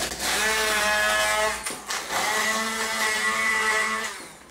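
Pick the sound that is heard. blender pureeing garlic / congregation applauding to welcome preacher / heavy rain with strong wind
blender pureeing garlic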